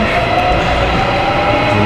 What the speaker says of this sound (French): Donc là on est dans le métro.